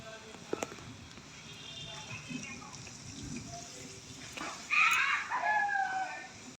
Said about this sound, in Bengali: মুরগিগুলো সব বেরিয়ে পড়েছে